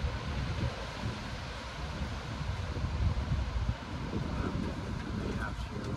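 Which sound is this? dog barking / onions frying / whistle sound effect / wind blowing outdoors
wind blowing outdoors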